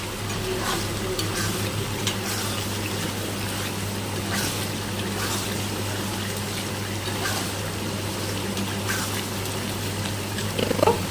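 Ridge gourd frying in a pan while being stirred, a steady close sizzle with soft scraping and shuffling over a constant low hum, even in loudness from start to finish.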